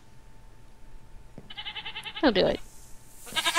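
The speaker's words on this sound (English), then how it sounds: "There's a speckled goat." A speckled goat in Minecraft lets out a couple of short, nasal bleats over quiet background ambience, with a person briefly speaking nearby.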